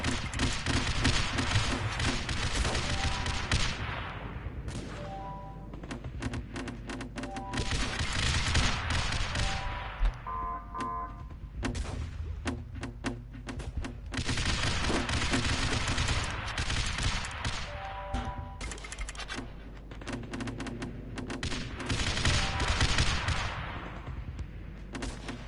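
Bombardiers firing in the Big Red One Alliance video game, producing a busy, overlapping fusillade of shots and thuds that swells and dips in waves across a long stretch of battle noise.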